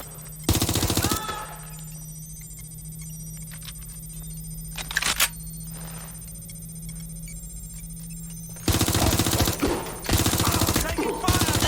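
Machine-gun fire from the video game Watch Dogs Legion comes in two loud, dense bursts, a short one at the start and a longer stretch at the end, with a low steady hum between them.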